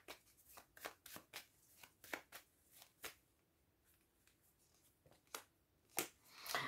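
Tarot cards shuffled and drawn close up, with quiet irregular riffles and sharp snaps of cards against a near-silent background.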